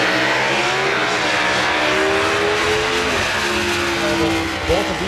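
Drag race cars with 429-cubic-inch pushrod Ford small block engines at a factory showdown, a loud sustained engine roar with rising and falling revs, a commentator's voice running under it.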